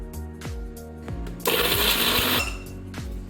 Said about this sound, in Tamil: அதையும் நம்ம சேர்த்து அரைச்சி எடுத்துக்கலாம்.